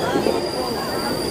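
Wheels of a train on the Araku Valley hill route squeal as it comes to a stop: thin, sustained high-pitched tones over a constant rail rumble, close and moderately loud.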